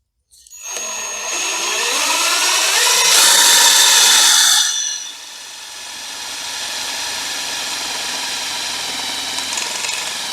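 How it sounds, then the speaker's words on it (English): A power drill bores through thick steel beam stock, a loud whining grind that rises for a few seconds, then drops to a lower steady hum as the bit spins down. "I'm going to drill these out and get some bolts lined up for them."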